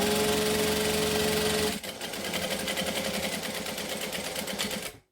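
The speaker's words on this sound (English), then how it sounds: "So we're going to line this up and we're going to stitch this down." A sewing machine stitches a fabric wallet, running in a fast, even buzz that stops abruptly, then restarts in a slightly rougher rhythm as it back stitches before cutting off, close and loud with no talk.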